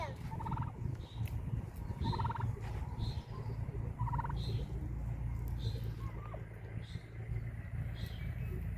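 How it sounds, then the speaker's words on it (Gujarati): Male and female turkeys on a farm near Gir forest give a series of short gobbling calls at moderate distance, repeated every second or so over steady low engine-like rumble and outdoor noise. "આ ટર્કી મેલ છે અને આ ફિમેલ"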